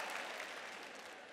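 A church audience claps in a soft, continuous wash of applause, fairly distant and even, with no voice on top.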